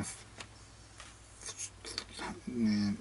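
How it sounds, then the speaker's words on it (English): Short scraping rasps of a file on a hard archtop guitar bridge, a few quiet strokes with small clicks between them. "I'm going to file this down"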